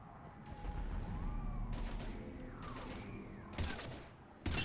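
Bursts of gunfire ring out in a Mass Effect battle scene, a continuous rattle of shots with a few louder cracks near the end, mixed with whooshing game effects and low rumble.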